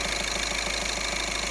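A repaired Skoda Octavia II 1.6 TDI diesel engine idles steadily and loudly up close, with an even, continuous mechanical hum and fine rhythmic ticking and no talking.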